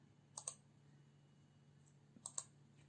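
Two faint pairs of mouse clicks, one pair around half a second and another near two and a half seconds, quitting a program on a computer over a low steady hum.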